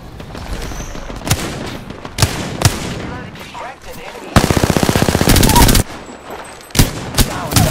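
Rapid bursts of automatic gunfire in Apex Legends, loud and close, with sustained rattling volleys and scattered single shots, mixed with a voice talking between the bursts.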